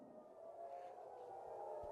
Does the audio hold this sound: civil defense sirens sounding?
yes